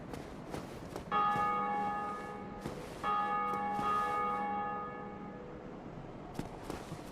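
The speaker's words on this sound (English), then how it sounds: "They're ringing the bells." Church bells ring in two long, resonant strokes that hum and fade, with faint footsteps and room noise around them.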